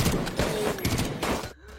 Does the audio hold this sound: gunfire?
yes